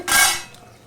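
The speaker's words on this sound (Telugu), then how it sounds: "ఇలా కలుపుతూ ఉండాలి." A spoon clatters against a pot while gongura chicken curry, Andhra style, is stirred, giving one close, bright metallic scrape that fades quickly, with no talking.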